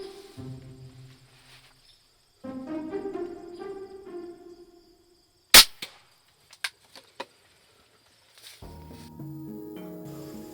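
A single sharp, loud rifle shot from a deer hunt cracks out over quiet outdoor sounds, followed by a few smaller clicks and snaps.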